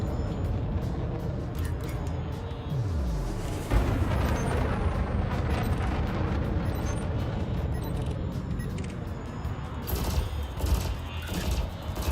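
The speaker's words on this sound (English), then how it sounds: "Burst laser cannon." Burst laser cannon fire in a space combat video game, dense rapid crackling volleys layered over a continuous loud rumble of game noise, with a sharper flurry near the end.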